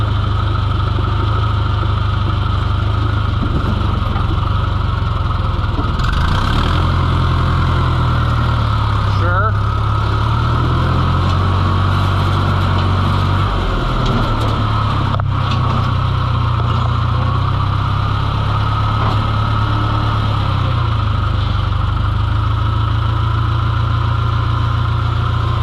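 John Deere 2020 tractor engine runs steadily throughout with a deep, continuous low rumble, close and loud, shifting slightly in pitch partway through as if throttling, while feeding hay on a farm.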